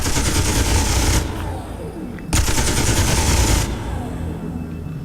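Rapid automatic cannon fire from a small fighter ship in the space game Space Engineers, loud continuous bursts with a short pause between them, then a lower engine rumble.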